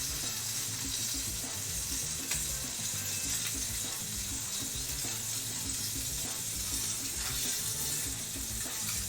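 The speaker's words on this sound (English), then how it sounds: "I actually feel compelled to sear that side too." Steak from a home-butchered quarter of beef sears in a hot pan, a steady, dense sizzle and crackle running continuously throughout with no talking over it.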